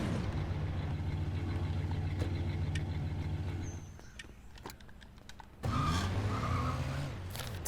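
A car drives in Scarface: The World Is Yours, its engine droning steadily before easing off, then surging back loud with tire squeal and skidding noise.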